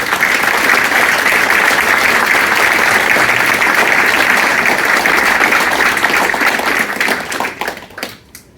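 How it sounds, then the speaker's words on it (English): Loud, sustained applause from a crowd, many hands clapping together, fading out with a few last claps near the end. "So I'd like to give a warm round of applause for our guests."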